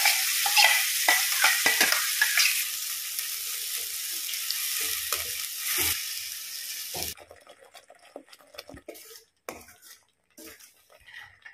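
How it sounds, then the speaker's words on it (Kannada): Ground masala spice paste frying in hot oil in a pan for a South Indian saaru, with a loud steady sizzle and scraping stirring for about seven seconds, then dropping to quieter intermittent crackles and clinks. No one speaks. "ಈ ಗ್ರೈಂಡ್ ಮಾಡಿಟ್ಟಂತ ಮಸಾಲೆಯನ್ನು ಹಾಕಿ ಸ್ವಲ್ಪ ಹೊತ್ತಿದ ಎಣ್ಣೆಯಲ್ಲಿ ಫ್ರೈ ಮಾಡುವ"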